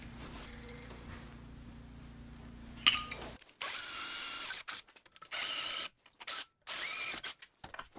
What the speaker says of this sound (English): Some were bent slightly too far, so I'm tweaking them in with the wrench.